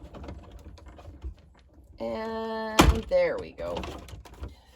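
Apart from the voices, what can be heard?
embossing machine running a card through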